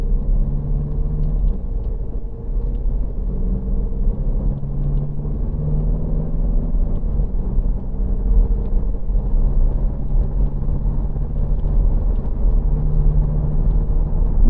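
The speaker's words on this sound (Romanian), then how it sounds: "Haideți să urmărim puțin și cum schimbă cutia la un mers normal" A Mercedes-Benz GLA 200 CDI diesel with the 7G-DCT gearbox drives normally in eco mode. It gives a steady, close cabin rumble whose engine drone dips and rises several times as the gears change.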